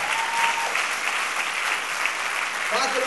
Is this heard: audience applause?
yes